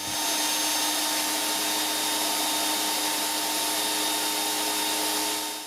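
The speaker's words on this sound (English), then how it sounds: "JIMMY JV35 is a quite noisy vacuum cleaner because it has a high suction power" A JIMMY JV35 mattress vacuum cleaner running, a loud, steady motor whine with a constant high hum unbroken throughout, close by.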